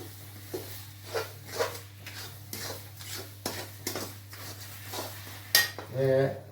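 A spoon scrapes and clinks in a pot of red chutney with sugar added, as someone stirs in short, irregular strokes. The knocks are sharp and close, with a faint steady hum underneath and a brief clatter near the end.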